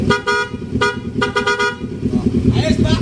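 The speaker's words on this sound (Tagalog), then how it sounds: "Titingnan natin guys kung gaano kalakas nga ba itong P-horn na to." A PIAA aftermarket horn fitted to a Kawasaki Ninja 650 blares in a series of short, loud, close blasts over a running engine.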